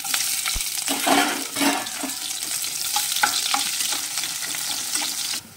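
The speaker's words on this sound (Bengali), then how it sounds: "এখন দিয়ে দেবো পেঁয়াজ কুচি" Chopped onion sizzling in hot oil with whole spices at the start of a beef tongue curry, a close, continuous fry broken by several scraping stirs, and no voices.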